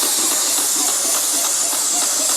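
Airless paint sprayer spraying thinned paint, a loud, steady hiss that holds unbroken and close throughout.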